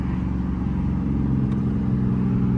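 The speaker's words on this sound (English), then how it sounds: "I'm trying to hear the engine." Dodge Charger RT engine heard from inside the car while driving, a steady loud mid-pitched rumble with a pulsing low drone, continuous and without talk.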